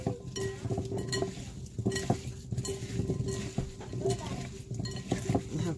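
Yams being tossed in a baking dish, heard as irregular clinks, scrapes and soft knocks of utensil against dish, moderately close with faint background hum.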